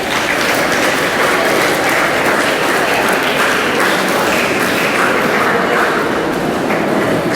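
A school assembly audience gives loud, sustained applause to thank the students who sang the prayer, thick continuous clapping from many hands that holds steady throughout.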